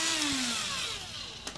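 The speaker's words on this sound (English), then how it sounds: "This is a phone that I will put a hole in it with a battery drill" A cordless battery drill bores into a Nokia mobile phone, its motor whine sliding downward in pitch as the bit loads up, close and steady, with a sharp crack near the end.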